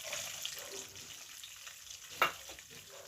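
Chopped onions fry in a pan, a faint, soft sizzle with one sharp crackle or utensil tap midway.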